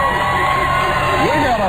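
A crowd of people gathered at a radio show broadcast in Sacramento, a steady loud wash of cheering and chatter with voices overlapping throughout.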